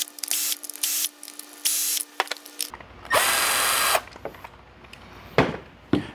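A handheld power driver whirs in short repeated bursts while backing screws out of the interior console trim of an Audi C7 A6, with small plastic clicks and handling noises between runs.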